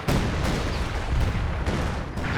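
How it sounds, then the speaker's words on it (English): Base artillery barrage in Company of Heroes, a dense run of overlapping booms and blasts rolling on loudly and continuously as shells land in close succession. "A flare there, gonna drop some base artillery"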